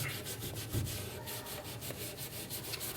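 Cloth rubbing and polishing the brass on a Yamaha P22 school piano, a steady close scrubbing with a rhythmic back-and-forth swish, continuous and fairly quiet.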